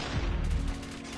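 Rapid bursts of QXR gunfire in a first-person shooter video game, sharp dense shots firing continuously for over a second, loud and close with no speech.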